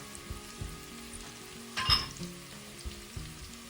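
Panang curry paste stir-fried in a pan with a steady sizzle, spatula scrapes and clinks against the metal, one louder stir burst midway, close and without talk.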